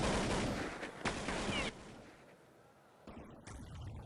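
Rifle fire in the Counter-Strike 1.6 video game: a few sharp, rapid shot bursts at the start, then quieter game ambience. The shots are fairly faint overall.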